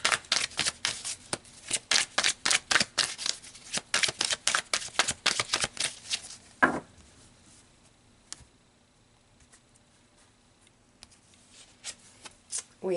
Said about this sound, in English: So let's pull 4 cards to clarify.